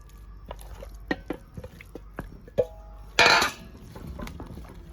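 Chicken pieces tossed and coated in spice powder in a bowl, with scattered soft clicks and wet squishes, then a brief louder rustling burst of mixing, close up with no voices.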